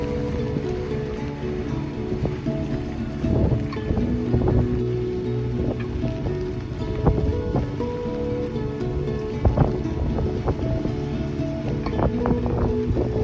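Gusty wind buffets the microphone on a rainy walk along the Stanley Park seawall in Vancouver, a steady loud rumble with irregular swells and faint knocks beneath it, no voices.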